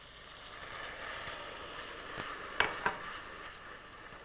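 Dry white wine being stirred into soft brown sugar in a pan, a faint low swishing with a gentle hiss and two brief sharp clinks of the spoon against the pan near the middle.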